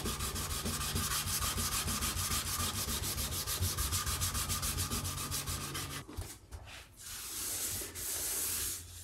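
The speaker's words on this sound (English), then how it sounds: "That's the sanding process on the body." Sandpaper on a pad rubs across an acoustic guitar body in a steady rapid back-and-forth rasp, close and continuous, then breaks off into a few scattered strokes and a brief wiping pass.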